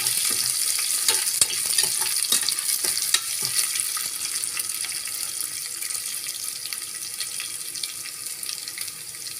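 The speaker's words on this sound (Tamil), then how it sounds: "நல்லா வதக்கி விட்டுக்கலாம்." Chopped onion sautés in hot oil in a pan while being stirred, a steady loud sizzle with frequent scraping and clatter of the spoon, with no talking.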